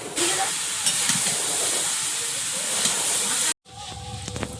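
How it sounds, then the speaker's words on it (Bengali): Luchi frying in hot oil in a home kitchen, a steady loud hiss and sizzle that runs continuously for several seconds, cuts off abruptly, then resumes softer with faint clatter. "লুচি ভাজা শুরু করে দিয়েছি"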